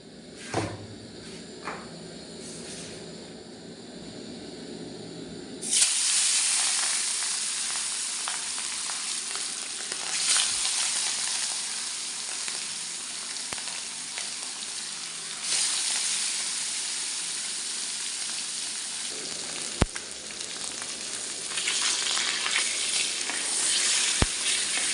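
Fish frying in hot oil in a kadai, a steady loud sizzle that starts after a few quiet seconds, with bursts of crackle and spatter and brief clinks of utensils.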